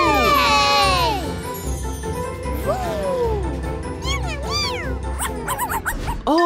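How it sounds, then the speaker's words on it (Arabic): A dog barks a few times amid busy cartoonish music and sliding tones, with shrill effects layered over the top. "هذا هو كلبي"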